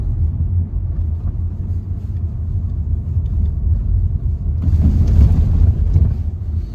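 Low rumbling road and engine noise inside an Opel Crossland X driving just past a roundabout exit, a steady muffled hum that swells slightly louder toward the end, with no talking.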